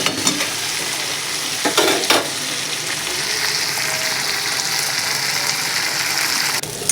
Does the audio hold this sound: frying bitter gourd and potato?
yes